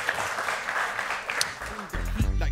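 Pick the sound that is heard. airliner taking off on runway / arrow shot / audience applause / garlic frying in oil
audience applause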